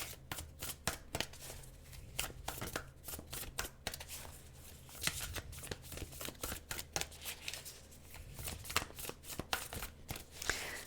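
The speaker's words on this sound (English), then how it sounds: "I know this deck is hard for me to shuffle" A deck of tarot cards is shuffled over and over at close range, giving rapid riffling and slapping bursts in an uneven rhythm with no talking.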